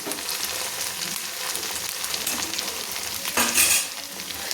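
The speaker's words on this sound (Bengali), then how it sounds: "দিয়ে আমি ভালো করে কিন্তু একটু তেলের সঙ্গে নেড়ে নিচ্ছি" Ginger-garlic paste and potatoes are stirred in hot oil, producing a dense, close sizzle with light scraping. A louder hissing surge rises near the end.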